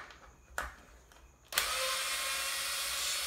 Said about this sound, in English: I'm gonna remove these two screws